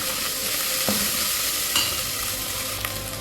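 A spoon stirs a pot of Haitian rice with pigeon peas and djon djon, scraping and clinking steadily at close range over a soft sizzle, with no voices.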